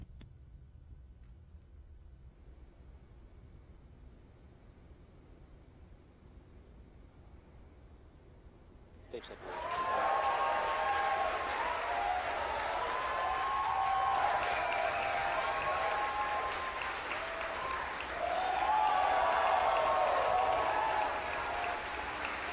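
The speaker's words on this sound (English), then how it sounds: "You hear the cheering." After a quiet stretch, a crowd at a SpaceX Falcon 9 rocket launch suddenly erupts into sustained applause and cheering, loud and steady, swelling again near the end.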